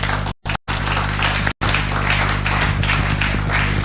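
A room full of people gives a loud, dense round of applause that runs steadily throughout, broken by a few brief dropouts, with no one speaking over it.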